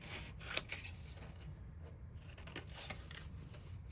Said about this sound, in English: Let's see, I've got some here, and I'll cut them out.